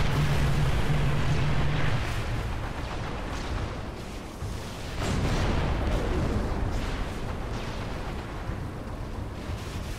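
Rocket launcher firing in Halo 3 on the mission The Storm, heavy blasts and booming explosions over a dense rumbling battle din, loud and sustained with a noisy roar filling the background.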